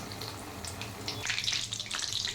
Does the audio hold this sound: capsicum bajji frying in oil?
yes